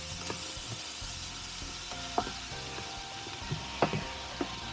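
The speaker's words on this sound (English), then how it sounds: "it's frying quite nicely." Food sizzles steadily in a low-wattage hot pot in a campervan, a soft continuous hiss broken by occasional clinks and scrapes of a utensil.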